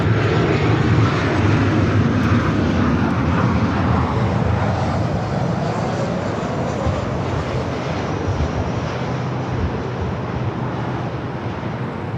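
Jet aircraft roar steadily and loudly at Los Angeles LAX airport on a gloomy day, a broad engine rumble that holds for the whole stretch with a slight easing toward the end, no voices.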